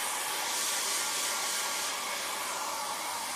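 A hair dryer blows with a steady, bright, airy whoosh, continuous and fairly quiet, with no talking.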